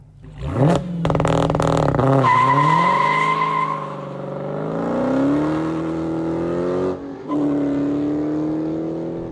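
A 2016 Dodge Challenger Hellcat with a manual gearbox launches hard, its engine blipping and then roaring up through the revs with a rising howl and a brief dip at a gear change, loud and close with no talk.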